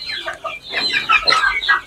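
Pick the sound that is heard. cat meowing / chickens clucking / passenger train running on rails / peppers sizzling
chickens clucking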